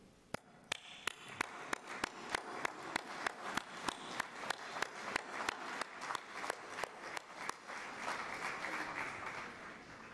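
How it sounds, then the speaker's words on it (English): A graduation audience applauding, starting with a few sharp claps that build into a steady, sustained round of clapping from a crowd. "I want you to give them a hearty round of applause of thank you"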